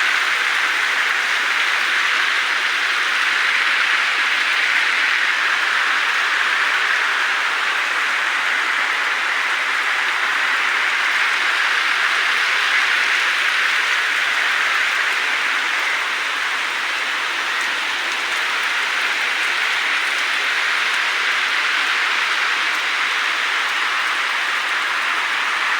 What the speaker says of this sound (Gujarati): વરસાદ ફાઇનલી ચાલુ થઈ ગયો છે.